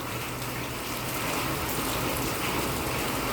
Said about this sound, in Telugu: వర్షం పడుతూనే ఉంది గైస్.